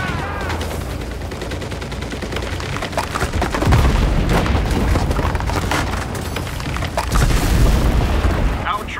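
Explosions and gunfire in the WWII shooter Enlisted: dense, continuous booms and rattling shots fill the mix, with heavier deep blasts around four and seven seconds and a voice shouting partway through.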